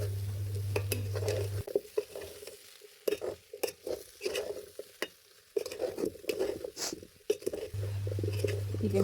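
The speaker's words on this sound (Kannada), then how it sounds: "ಉಪ್ಪು ಆ್ಯಡ್ ಮಾಡಿದ ಮೇಲೆ ಚೆನ್ನಾಗಿ ಬೆರೆಸಬೇಕು" A spoon stirs salted raw jackfruit sukka in a pan on the stove, giving repeated scraping and clattering strokes over a low sizzle, loud and close.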